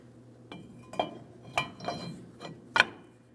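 Metal clinks and light clanks as a brake rotor is fitted onto the rear hub of a 2007-2014 GMC Sierra 2500 HD, with several separate close knocks spread out and one sharper ring near the end.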